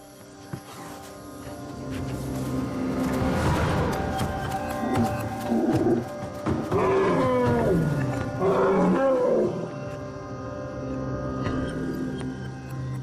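Wild elephants returning to plantations, letting out loud, drawn-out roaring and trumpeting calls that rise and fall over several seconds, with a steady rumble underneath.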